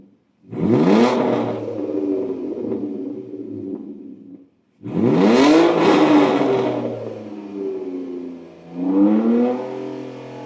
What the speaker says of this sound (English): We'll give it a rev up in a second and have a look.